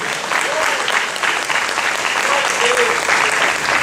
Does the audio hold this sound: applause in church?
yes